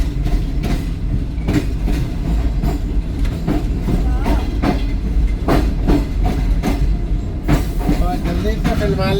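Karachi Express train rolling on the rails, a steady loud clatter with repeated clickety-clack wheel beats and rumble throughout, a brief squeal near the end.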